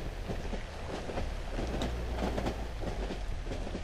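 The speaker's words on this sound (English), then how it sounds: "We're on a train. Train is moving." A moving train in the horror video game Cry of Fear rumbles steadily with rhythmic clattering wheels and metallic knocks, a continuous low drone filling the whole stretch.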